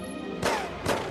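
Two sharp gunshots in Indiana Jones and the Staff of Kings on the Wii, about half a second apart, loud and close over a low game background.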